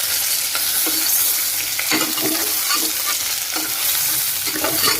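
Chili powder and salt are stirred into brinjal curry in a pot, a loud continuous sizzle with repeated scraping stirs in a steady rhythm and no talk.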